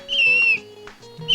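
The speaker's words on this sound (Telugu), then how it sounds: "ఈ రోజు ఈల మింగావు రేపు తుపాకీ మింగుతావు" A swallowed whistle sounds from someone's throat: a loud, steady shrill tone for about half a second, a lower murmur, then a second shrill burst starting at the very end.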